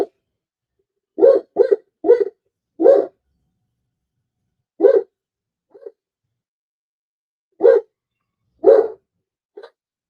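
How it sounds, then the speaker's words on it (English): A dog barks in short separate bursts, single and doubled, loud and close with silence between them and no talk over it. "This dog is getting on my nerves."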